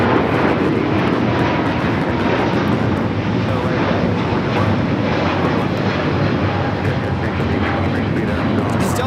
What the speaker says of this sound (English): Flight 39 taking off to Shanghai on the A350-900